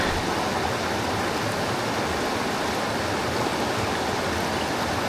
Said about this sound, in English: Using natural water, natural stream to run that through.